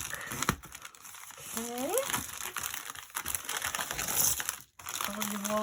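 Crinkly vacuum-sealed plastic packaging from a diamond painting kit rustles and crunches close up as it is opened, with scattered brief speech over the handling.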